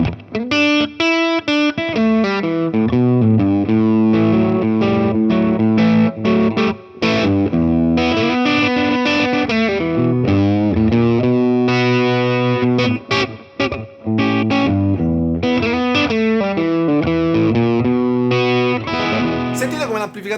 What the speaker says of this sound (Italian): Sentite come l'amplificatore inizia a comprimere in maniera molto naturale, le valvole saturano